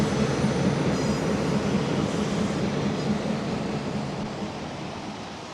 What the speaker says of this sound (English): The lead unit is an Alco Model C628.